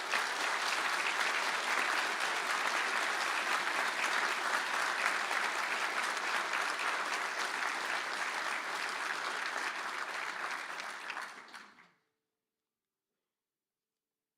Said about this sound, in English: I now ask everybody to give a round of applause in Conal's memory for his achievements.